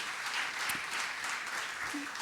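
Audience applause at a volunteers' meeting, a steady wash of many hands clapping at moderate volume, with no voices on top.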